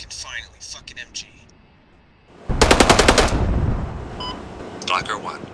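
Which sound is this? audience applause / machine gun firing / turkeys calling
machine gun firing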